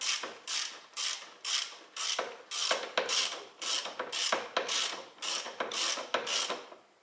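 A ratchet tightens the rear stabilizer bushing bolts on a 1991–2002 Toyota Corolla, giving about a dozen rhythmic ratcheting bursts of loud, close clicking with no talk over them.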